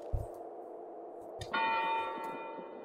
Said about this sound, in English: That was a bell.